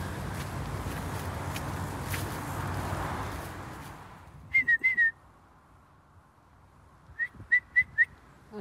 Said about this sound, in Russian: На подзыв идет, на свист.